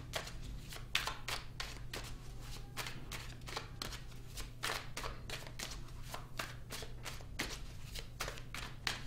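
Tarot cards being shuffled, a rapid series of crisp riffling bursts repeating steadily over a quiet low hum, close and fairly soft.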